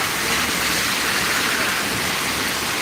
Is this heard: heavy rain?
yes